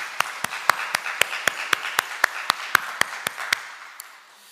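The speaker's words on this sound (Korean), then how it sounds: "우리 하나님께 뜨겁게 영광의 감사의 박수를 드리겠습니다" A church congregation at Sunday service claps together in a steady, even rhythm of about a dozen sharp beats, close and fairly loud, fading out at the end with no talk over it.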